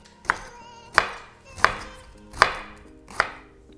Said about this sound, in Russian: Капусту нужно нашинковать.